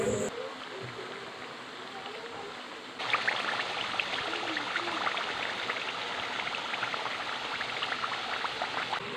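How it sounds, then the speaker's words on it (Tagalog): Steady bubbling and gentle hissing of coconut milk boiling in a pan, getting louder after a few seconds and continuing evenly throughout. "Ayan, kumukulo na siya."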